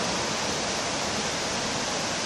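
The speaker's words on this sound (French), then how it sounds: "la rivière qui coule, ce torrent fougueux." The torrent of the Rivière des Galets on Réunion rushes below a bridge, a steady, dense roar of fast water heard alone, unbroken and fairly loud.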